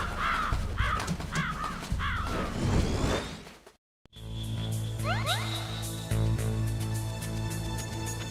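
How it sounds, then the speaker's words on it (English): A raven in the Metal Gear Solid PC version gives several harsh, close caws in a quick series, then a whoosh and brief silence before a quieter game background with rising electronic tones continues. "Yes, the raven on my head. It thirsts for his blood."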